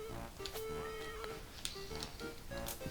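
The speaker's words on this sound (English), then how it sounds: "There's a cat there to pet." A cat meowing in the video game Phoenotopia: Awakening, a few short quiet meows over soft background game music.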